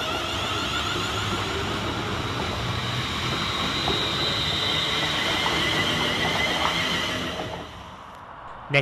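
A Class 150 diesel unit, 150-258, running through Smethwick Galton Bridge station, a loud close roar of wheels and engine with rail clatter and faint squeals, holding steady before dropping away near the end.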